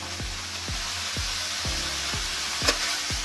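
Pork frying in a pan with mint and spices, a soft continuous sizzle broken by regular thumping scrapes of a spoon stirring, roughly every half second, close and moderately quiet with no voices.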